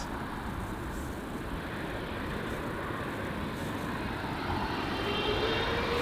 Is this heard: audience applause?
no